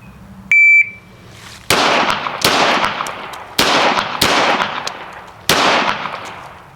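A shot timer at a shooting range gives one short, piercing electronic beep, then a Ruger RXM pistol fires several loud, sharp shots at uneven intervals, each followed by a brief echoing tail.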